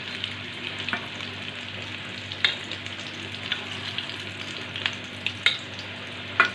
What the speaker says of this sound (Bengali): এবার এক এক করে সব কড়াইতে দিয়ে দিয়েছি, এগুলোকে ভেজে নেব।